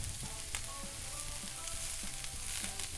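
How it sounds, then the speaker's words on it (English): Broccoli florets sizzle steadily in a hot pan, with a dense, constant frying hiss broken by soft clicks of stirring; close and continuous, with no talking. "Give them a little bit of a stir, about 3 minutes until the broccoli is looking bright green"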